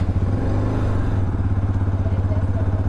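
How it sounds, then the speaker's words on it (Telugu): Idling motorcycle on a dusty roadside stop during a touring ride from Ambala to Amritsar, its engine putting out a steady, close, loud low-pitched throb with faint mechanical clatter, no voices on top. "సో ఇంకా మన బైక్ని స్టార్ట్ చేసాం."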